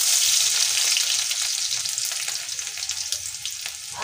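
Chopped garlic frying in hot oil with chillies, a loud, bright, continuous crackle close by that eases slightly as it settles.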